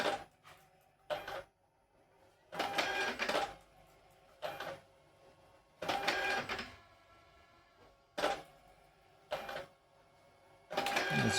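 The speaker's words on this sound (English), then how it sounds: "It's printing the card." A Zebra ZC300 card printer prints an ID card in a series of close, loud mechanical whirring bursts of varying length. Short pauses separate the bursts, and there is no speech.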